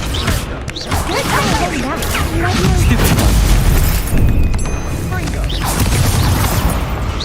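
Spell effects including the Incendio fire spell in Hogwarts Legacy, loud whooshing bursts and cracking impacts layered into a dense, continuous combat mix with a voice talking over it.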